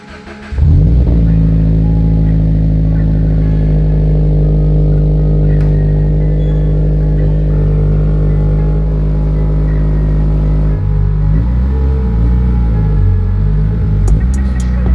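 A modified car runs steadily with a loud, close engine drone that holds a constant hum, then shifts character as it revs and changes load near the end.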